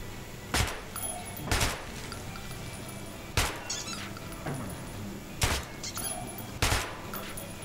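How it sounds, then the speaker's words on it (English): Single gunshots on a firing range in Metro 2033 Redux, five or six sharp reports spaced about a second apart over a quiet underground hum, moderately loud and close. "Feel free to try out your weapon on my firing range."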